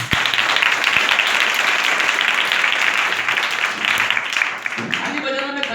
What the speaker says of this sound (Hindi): यीशु के लिए ताली बजाना है तो जोरदार ताली बजाओ।